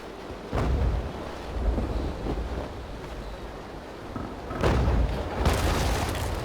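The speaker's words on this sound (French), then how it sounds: "Il m'a tiré un boulet, mais alors pile où il fallait." Cannonballs slam into a damaged ship's hull during a naval battle in Naval Action, with several deep booms: one near the start and two heavy impacts close together toward the end, over a constant rumbling, sea-like background.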